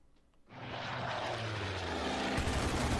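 Propeller engines of Wildcat fighter planes drone in Order of Battle, a loud steady roar that starts abruptly after a brief quiet moment and holds to the end.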